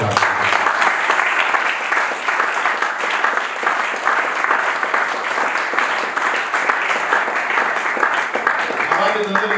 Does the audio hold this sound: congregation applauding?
yes